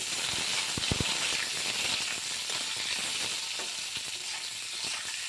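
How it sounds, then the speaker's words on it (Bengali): Cubed potatoes fry in hot oil with whole cumin in a pan, giving a dense, even sizzle and hiss throughout. A few soft knocks come early, and no one speaks. "এই আলুগুলো এখন এই তেলের মধ্যে দিয়ে একটু ভেজে নেব"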